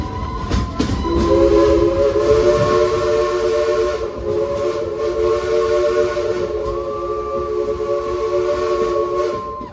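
Frisco Silver Dollar Line steam locomotive #14 chugs steadily along while a long, loud whistle sounds almost continuously, its tones holding for most of the stretch.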